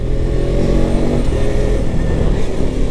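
The engine of a KTM RC 200 motorcycle runs loud and close with a steady, throaty drone that holds level throughout, without clear revving. No one talks.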